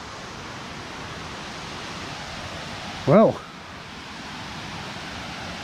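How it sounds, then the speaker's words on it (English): A waterfall near Luang Prabang, heard from its top, produces a steady, broadband rushing roar of falling water that stays constant throughout, with a single brief spoken word rising over it midway. "So this is the top of the waterfall."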